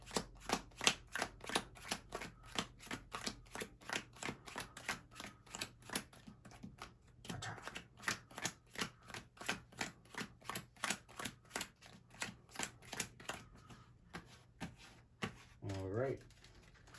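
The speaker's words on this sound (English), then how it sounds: "So we're going to go ahead and do a little quick power shuffle." A deck of playing cards is power shuffled in rapid succession, a long run of crisp, evenly spaced riffling snaps up close, ending with a short clattering burst as the cards settle.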